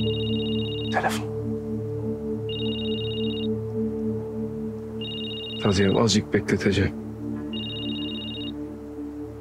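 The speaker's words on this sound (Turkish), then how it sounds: "Telefon." A telephone rings in a repeating pattern of short electronic trills, clear and steady over a low background hum, broken once by a burst of knocking or clatter while someone speaks briefly.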